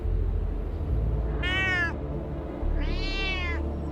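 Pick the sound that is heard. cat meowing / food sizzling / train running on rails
cat meowing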